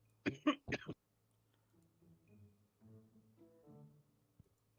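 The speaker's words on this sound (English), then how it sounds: "He might be coughing his lungs out." Several sharp, harsh coughs come in a quick burst up close, followed by quieter throaty mumbling.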